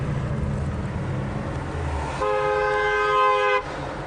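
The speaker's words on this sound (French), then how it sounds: "Ah bah ça klaxonne, c'est normal." A car horn honks in a sustained blast for about a second and a half at a busy crossroads on France's Route Nationale 7, standing out over steady traffic rumble.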